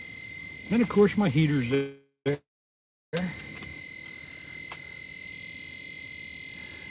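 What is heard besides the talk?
electronic beeping from fishing equipment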